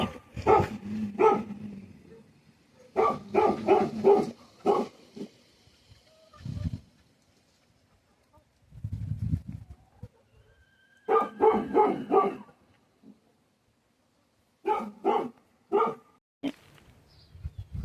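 A dog at a rural home with chickens and quail barks in several loud close bursts of rapid yaps, separated by pauses, with a little low sound between the bursts.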